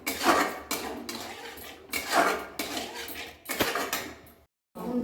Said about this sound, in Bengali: এবার টক দইটা দিয়ে দেবো, দিয়ে ভালো করে নেড়ে নেবো